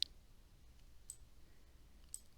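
A computer mouse clicks three times, sharp, faint, close-up ticks spaced about a second apart over a quiet background.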